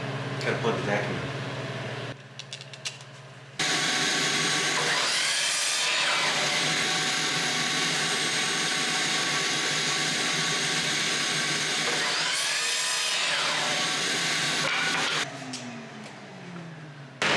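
A power saw cutting wooden boards to length for large cutting boards in a workshop, a loud sustained whining cut that rises and falls as the blade passes through the wood, with long steady stretches of cutting.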